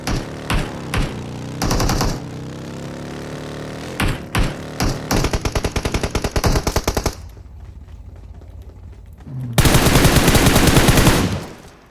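Gunfire in PUBG Mobile: rapid automatic bursts and single shots crack loudly near the listener, broken by brief pauses, then a dense sustained volley near the end.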